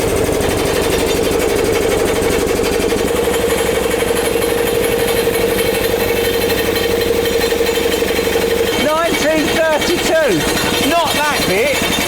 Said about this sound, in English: so I have to plug it into the compressor